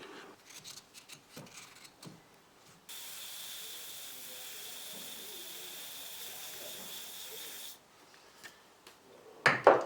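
WD-40 is sprayed onto a gummed-up piston from a Honda farm bike: one continuous aerosol hiss lasts about five seconds, with quiet clicks and handling noises before and after.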